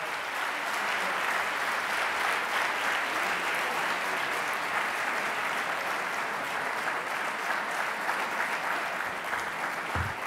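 A crowd at an Italian political rally for the Lega party applauds steadily, a continuous, even wash of clapping that holds at the same level throughout, with no voices rising above it.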